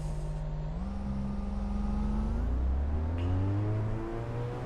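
A car's engine in the racing game Assetto Corsa EVO revs and accelerates steadily, its rising tone climbing through gears with one brief shift, loud and continuous with no voices over it.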